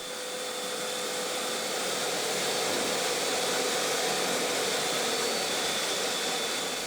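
A sandblaster running at 6 to 10 bar strips rust from pinball machine metal parts, giving a loud, continuous, broadband hiss that stays even for several seconds with no talk.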